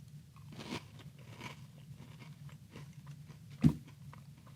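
Dry crispy granola cluster cereal crunched and chewed straight from the bag, with soft quiet bites and one sharp, louder crunch near the end, close to the mic.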